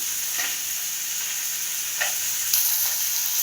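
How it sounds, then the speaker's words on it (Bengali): Fish fries in a pan of hot oil, giving a steady, dense sizzle throughout, with a few brief stirring or turning scrapes. "এদিকে মাছ ভাজার পর্ব চলছে, সকাল সকাল মাছ ভাজাই হচ্ছে।"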